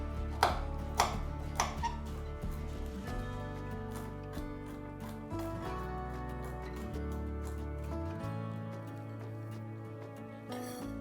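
A knife chops almonds on a board for vegan flapjacks, a few sharp knocks at the start followed by quieter intermittent cutting, with no talk.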